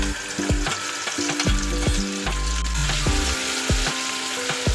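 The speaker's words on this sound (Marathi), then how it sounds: "एक चमचा जिरं आणि हा आपण बारीक केलेला मसाला आहे ना तो टाकून घेऊया चांगला आपण फ्राय करून घ्यायचा तेल सुटेपर्यंत" Ground masala and cumin fry in oil in an iron kadai, a loud close sizzle punctuated by rapid, rhythmic metal scraping and tapping as the mixture is stirred.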